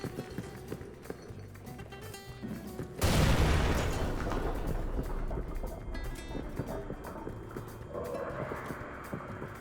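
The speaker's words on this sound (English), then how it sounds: "I immediately equip a nade and aim it around the spot to blow up the shelves ahead." A grenade detonates in Amnesia: The Bunker, blowing apart shelves in an arsenal: a sudden loud broadband blast at about three seconds, followed by a long rumbling wash of debris that slowly fades.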